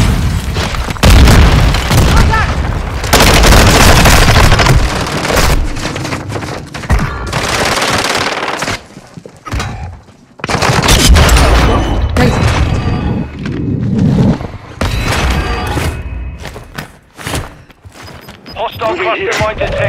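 Loud explosions and rapid gunfire from a Warzone 2 match, with an airstrike and grenades, form dense booming blasts and sustained automatic fire close up, while in-game voice callouts sound underneath.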